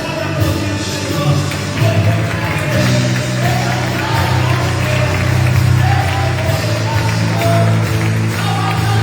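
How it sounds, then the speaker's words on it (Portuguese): A church congregation claps for the Lord at a Portuguese-language worship service, a dense, sustained round of applause with crowd voices and murmuring mixed in, loud and continuous for the whole stretch. "Você pode aplaudir o Senhor."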